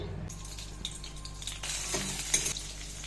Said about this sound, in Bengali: এবার আলুগুলো ভাজা করে নেব। তেল দিয়ে দিলাম